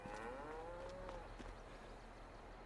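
Cattle in the video game Farming Simulator 22 moo in a long, drawn-out call at the start over a steady farm background hum, with no speech.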